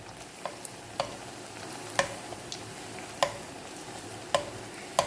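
Puris deep-frying in hot oil for pani puri, a steady close sizzle broken by sharp spoon clicks every second or so as oil is ladled over them.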